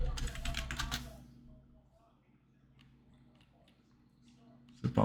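Quiet clicking of a computer keyboard as a short search is typed, faint keystrokes after a person finishes talking, with another voice starting at the end.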